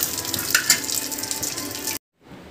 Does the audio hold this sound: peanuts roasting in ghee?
yes